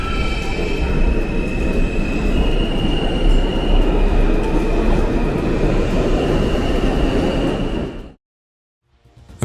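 A train runs steadily with loud, continuous rumble and wheel noise for about eight seconds, then cuts abruptly to near silence.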